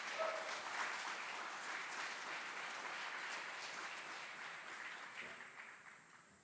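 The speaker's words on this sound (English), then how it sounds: "Please join us in giving a round of applause to these outstanding drill sergeants and instructors" Applause from an army aviation graduation audience honoring drill sergeants and instructors, a steady far-off crowd clapping that holds evenly and then slowly fades toward the end.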